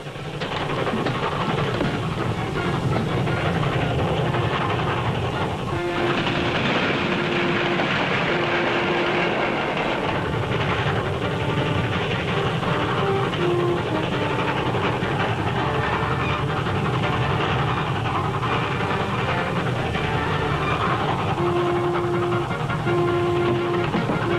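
A train rumbles steadily along the rails, with a continuous loud roar and rhythmic clattering of wheels throughout.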